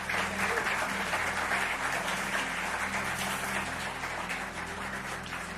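A church congregation at an evangelical service in Lisbon claps together, a dense, steady wash of applause that holds at an even level throughout without any voices.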